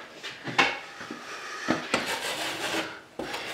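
A broad knife spreads caulk over a drywall repair in a series of short, close scraping strokes, with irregular rasping swipes and a few light taps of metal against the wall surface.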